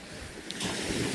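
Waves on a UK shore at night during a big winter tide make a steady broadband wash rising into a surge, mixed with wind noise on the microphone, no speech.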